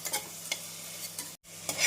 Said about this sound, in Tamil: வெங்காயம் தக்காளியுடன் நன்றாக வதங்கி வரவும்